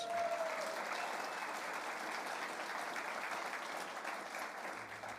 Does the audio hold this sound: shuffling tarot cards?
no